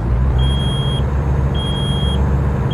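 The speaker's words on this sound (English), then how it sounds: "get rid of that beeping sound" A high electronic warning beep sounds twice in long even tones over a steady low engine rumble, like a truck reversing alarm, in American Truck Simulator.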